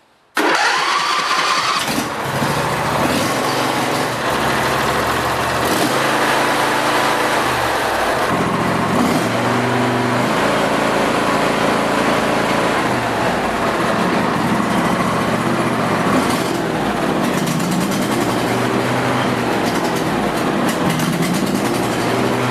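A John Deere 155C lawn tractor engine cranks, fires up and keeps running loud and close at a steady idle for the full stretch, with no talk over it.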